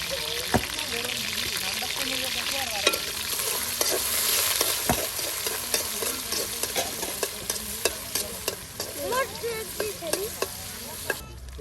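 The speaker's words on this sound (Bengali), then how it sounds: "এই যে দেখুন আপনার মরিচগুলো সুন্দর করে ভেজে নেওয়া হচ্ছে, পেঁয়াজ রসুন সব একসাথে।" Chilies, onion and garlic fry in oil for a pangas fish curry, a continuous close sizzle broken by repeated sharp clinks and scrapes of a spatula stirring the pan.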